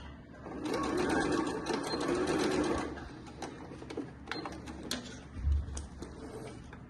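Sewing machine stitching fabric for a milk-carton box, a fast close whirring run that stops partway through, followed by light clicks and handling of the cloth.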